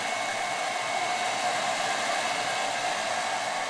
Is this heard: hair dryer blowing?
yes